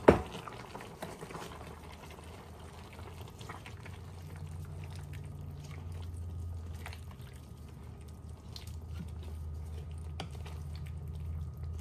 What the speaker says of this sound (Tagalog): Pakukuluan ko pa yan.